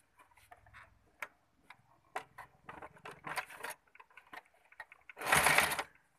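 A sewing machine stitching a lungi: scattered light clicks and handling taps, then a short, close burst of rapid whirring stitches near the end, with no talk.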